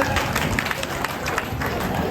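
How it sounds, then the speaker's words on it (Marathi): A crowd at a Marathi game show claps loudly and continuously, a dense wash of applause with voices mixed in. "जोरात टाळ्या वाजवणार."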